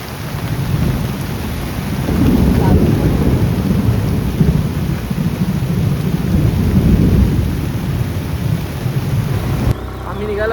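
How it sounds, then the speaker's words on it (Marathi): Heavy monsoon rain pours steadily with rolling thunder rumbling through it, a loud, continuous outdoor downpour that cuts off abruptly near the end. "हे बघा पाऊस जाम पडतोय बघा."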